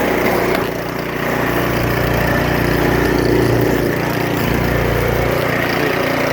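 Snow blower engine running steadily after the choke is switched off, a loud close-up rough mechanical drone with a low throb and only a slight dip in level early on.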